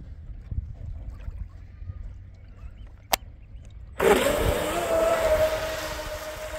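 A DIY twin mono racing boat makes its speed run. Quiet outdoor ambience and a sharp click give way to the sudden loud whine of the motor, which holds steady and then slowly fades as the boat pulls away.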